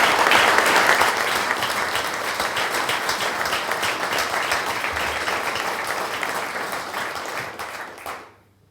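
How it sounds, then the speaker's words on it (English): An association's audience gives the committee and members a round of dense, steady applause at fairly close range, holding strong for several seconds before cutting off abruptly near the end. "give the committee and members of the association a round of applause for their work"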